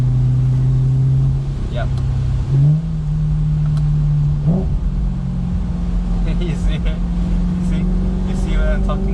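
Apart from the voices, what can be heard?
BMW E93 M3 4.0L V8 engine revving, roof down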